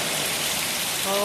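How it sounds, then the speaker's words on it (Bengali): Steady rain pours down outdoors during a power cut, a dense continuous hiss with no pauses, loud and close. "বৃষ্টি এখনও হচ্ছিল"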